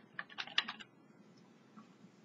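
A quick burst of keystrokes on a computer keyboard, several close clicks in a row, then a faint quiet stretch with a couple of soft taps.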